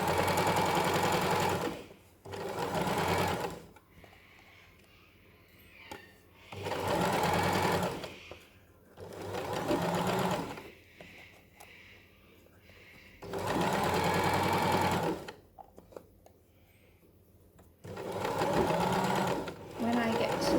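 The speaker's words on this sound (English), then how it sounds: "So I'm just going to start with some forwards backwards stitches." A sewing machine stitches a patchwork quilt block in loud, steady bursts of a few seconds each, separated by quiet pauses, heard up close.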